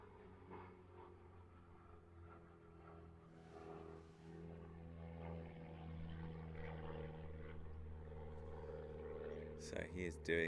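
Aerobatic propeller airplane flying a warm-up stall turn at a British aerobatics championship, its steady droning engine hum holding throughout at moderate distance, with a couple of sharper bursts near the end.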